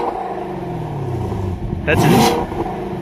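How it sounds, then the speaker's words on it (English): A 2019 Camaro SS with active exhaust set to stealth mode gives a short muffled rev that swells and falls back to idle, close by, with a brief spoken remark over it. "Go ahead and rev it up."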